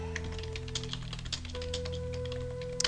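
Quiet computer keyboard typing, a quick run of soft key taps, enters text into the typing interface of the Quest for Glory II: Trial By Fire remake over a faint steady hum.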